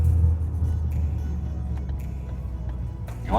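A Ford Focus ST fitted with Damond transmission and engine mounts cruises along, its engine and road noise forming a steady low rumble heard from inside the cabin, with no talking.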